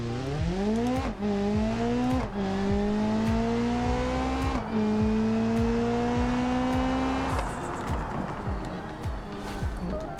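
A race car engine in BeamNG revs hard through repeated upshifts, its pitch climbing and dropping with each gear change, loud and close over a continuous drone with a faint voice underneath.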